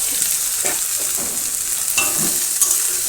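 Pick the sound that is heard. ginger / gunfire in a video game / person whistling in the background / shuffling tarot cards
ginger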